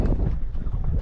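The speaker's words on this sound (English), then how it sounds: "It's quite windy here." A northerly wind of about 10 knots buffets a fishing boat at sea near a reef edge, a brief burst of rough, low rumbling gusts close to the microphone.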